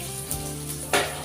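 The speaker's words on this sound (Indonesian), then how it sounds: "kita goreng dulu kita punya bawang putih, bawang merah" Garlic and shallots fry in a pan with a steady, close sizzle, and a brief louder hiss or stir near the end.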